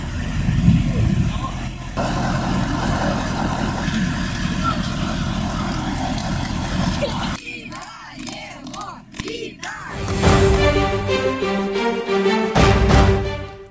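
A fire engine pulls into a school courtyard, its engine rumbling and air brakes hissing amid a cheering, clapping crowd of classmates, followed by mixed voices and bustle nearby.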